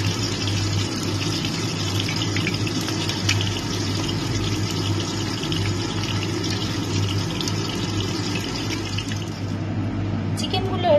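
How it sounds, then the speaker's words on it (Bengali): Chicken pieces, pakora for chilli chicken, fry in hot oil, giving a steady, continuous close-up sizzle and crackle with a low hum beneath, unbroken throughout. "চিকেনগুলোকে আমি এইভাবে ভেজে নিচ্ছি।"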